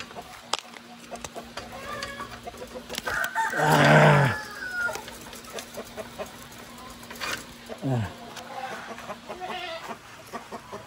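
Chickens on a farm kept with ducks, turkeys and geese: a rooster crows loudly up close mid-clip while hens cluck intermittently around it, with a person talking nearby.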